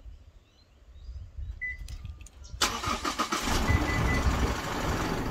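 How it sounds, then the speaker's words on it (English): An Isuzu MU-X diesel starts by remote start after a couple of faint clicks and beeps, the engine catching with a brief rattle from its hydraulic timing chain before settling into a steady close idle. "the rattle you hear at the start is a hydraulic timing chain. Once it builds oil pressure, the rattle goes away"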